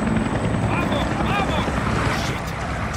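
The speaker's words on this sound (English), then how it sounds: "Oh, we got chopper." A helicopter in the video game Far Cry 6 produces a steady, loud rotor drone that runs through the whole passage, mixed with other game noise.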